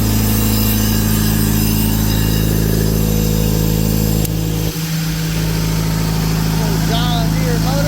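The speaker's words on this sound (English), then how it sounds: "John Deere motor." A turbocharged John Deere diesel motor runs steadily on a DB800 wet blasting rig, a loud continuous low drone with a brief dip midway, while people talk nearby.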